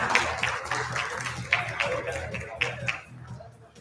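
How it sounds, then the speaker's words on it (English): An audience at the TiECon Delhi-NCR 2023 conference applauds a panel session, with a moderate, fairly steady patter of many claps and some louder individual hits, fading toward the end. "Can we have a big round of applause for this session"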